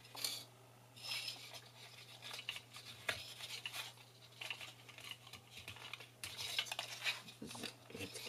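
Scissors snip off a short piece of craft material for a paper rosette, a few light, crisp cuts and clicks close by over a low, steady hum.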